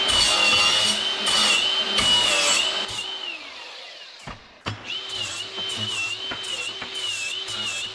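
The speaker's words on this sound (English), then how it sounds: "Now where I've got a burr on it, just give the old grind around the edge." An angle grinder removes a burr from a metal edge on a stretched 6x4 Gator build, its high whine rising and falling through short passes, pausing briefly with a clunk before spinning up again.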